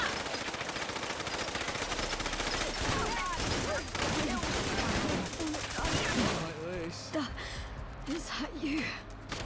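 Rapid automatic gunfire rattles through a firefight in the video game Fallout: London, loud bursts running for several seconds, then thinning into scattered shots mixed with gasps and other vocal effects.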